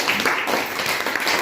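An audience claps with both hands raised, a dense, steady burst of applause close by, lasting under two seconds.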